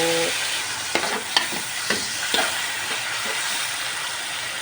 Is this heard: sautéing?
yes